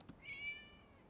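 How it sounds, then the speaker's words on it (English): A single drawn-out cat meow, fairly faint and slightly distant, preceded by a soft tap, over a quiet background. "It was just a cat."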